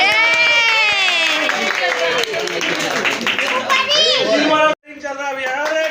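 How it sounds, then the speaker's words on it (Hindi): Children clap at a family birthday and anniversary celebration. Scattered claps sound under loud, excited children's voices and chatter, with a brief drop near the end. "ताली मारो बच्चे लोग"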